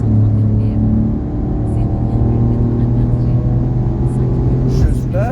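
A loud car engine on the Mireval race track drones and eases off, then builds again steadily under progressive acceleration, heard from inside the car with a steady roar throughout.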